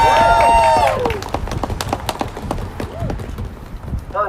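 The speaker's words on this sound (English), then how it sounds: "Another big round of applause for Christine" A rally crowd in Washington DC applauds a speaker with dense, irregular clapping that swells and thins over a few seconds, mixed with a voice and cheering near the start.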